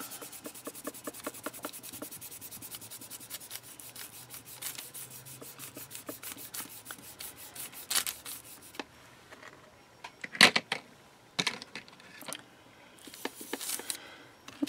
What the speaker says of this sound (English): now I'm going to burnish it again.